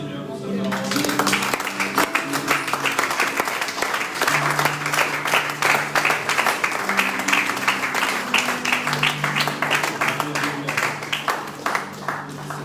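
A church congregation claps steadily and rhythmically during a worship service, sustained applause over organ or keyboard chords and singing voices.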